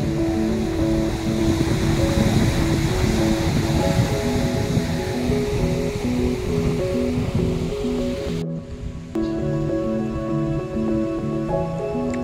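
Strong ocean waves on the coast of Ilocos Sur make a loud, continuous wash of surf. A steady tonal hum runs beneath it, and the sound cuts abruptly near the end.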